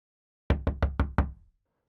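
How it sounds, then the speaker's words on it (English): Five firm knocks on a room door, close and loud, coming in a quick uneven rhythm over about one second, then silence. "He knocked on the door."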